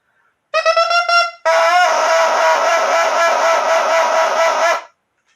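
A bare bassoon double reed is blown alone, without the instrument, giving buzzy, duck-like squawks: a few short honks, then one long sustained reedy drone that cuts off.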